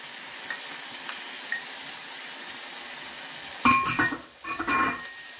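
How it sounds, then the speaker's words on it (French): Meat pieces and sliced red onion fry in a pan, a low quiet sizzle at first, then louder bursts of crackling and stirring scrapes toward the end, with no one speaking. "Quand les morceaux de viande sont colorés mais pas encore cuits, j'ajoute l'oignon rouge émincé."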